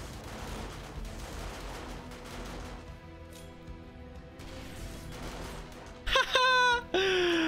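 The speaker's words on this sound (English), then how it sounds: "Let's chuck some grenades, shall we?" Grenades and gunfire against zombies in the video game 7 Days to Die, a dense rumbling clatter of shots and blasts, followed by a few loud sharp bursts near the end.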